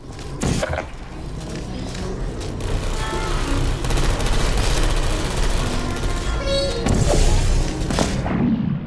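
Turret gunfire in the video game Portal 2: rapid, sustained mechanical firing with clicks and creaks, steady and loud for several seconds, ending with a few sharp bursts.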